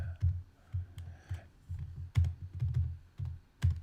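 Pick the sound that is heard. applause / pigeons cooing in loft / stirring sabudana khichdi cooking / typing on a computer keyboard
typing on a computer keyboard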